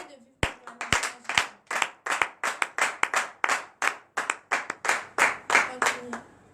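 During a morning prayer gathering, a small group claps in acclamation to God: a loud, rhythmic run of distinct hand claps, roughly two or three per second, close by, with voices briefly audible between claps.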